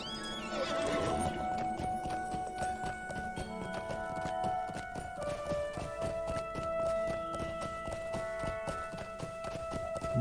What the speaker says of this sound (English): let us ride a horse.